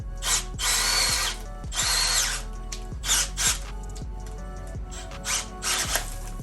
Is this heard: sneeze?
no